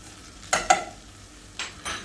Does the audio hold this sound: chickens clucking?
no